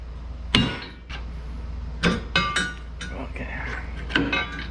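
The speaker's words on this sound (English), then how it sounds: "In this case, we're just going to pry it out a little bit." Metal clinks and sharp knocks as a wedged bolt is pried loose on a Kawasaki KRX 1000 receiver hitch, several separate impacts spaced over a few seconds against a low steady hum.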